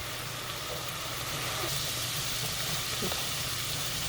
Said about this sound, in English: So we let our celery, carrots, and onions to saute for a little bit